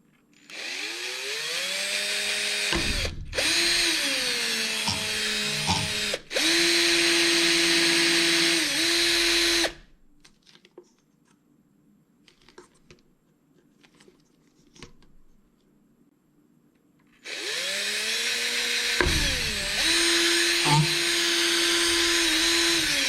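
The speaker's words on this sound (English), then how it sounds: "you're going to take the 1/8 inch drill and make a hole" Close, loud bursts from a 1/8 inch drill bore holes in a DIY bird feeder, each whining run speeding up and then settling, split by short pauses. A quiet stretch of faint handling follows before the drill starts up again.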